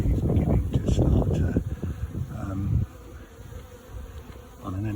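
Honey bees swarm and buzz loudly around an open pot hive, a dense continuous drone close to the microphone that eases off midway, with some wind rumble.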